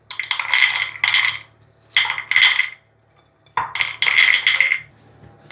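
Toasted hazelnuts tipped into a small bowl give bright clinking, rattling bursts in three separate pours with quiet gaps between, close and clear with no talk.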